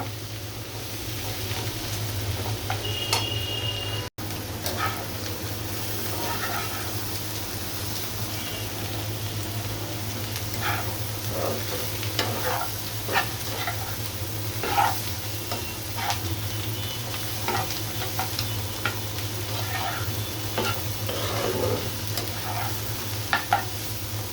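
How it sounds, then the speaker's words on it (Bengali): Sliced bitter gourd frying in mustard oil in a pan, a soft continuous sizzle with scattered light stirring clicks over a steady low hum, fairly quiet and without speech. "করলাটা আমার ভাজাটাই হয়ে আসছে"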